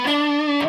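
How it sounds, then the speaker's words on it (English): An electric guitar fitted with cheap Temu pickups plays a single sustained, buzzing distorted note with thick harmonics that rings steadily, then is cut off by a short pick or string noise at the end. "suppose you could use the middle sound in distortion as well."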